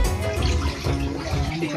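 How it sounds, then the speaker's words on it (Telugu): Water flowing steadily through a narrow, chest-deep cave passage, a close, full rushing wash with a person talking over it. "స్వామి పాదాల దగ్గర నుంచి ఈ నీళ్లు పారుతాయంట"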